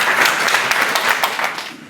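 A crowd at a community gathering bursts into brief, dense applause, many hands clapping together at moderate distance for under two seconds.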